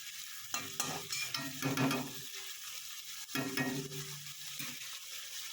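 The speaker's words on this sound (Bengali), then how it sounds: "চিংড়ি মাছটা অল্প ভাজা ভাজা হয়ে গেছে" Prawns frying lightly in a pan, a hissing sizzle broken by two bursts of scraping and stirring with a utensil, close and moderately loud, with no speech.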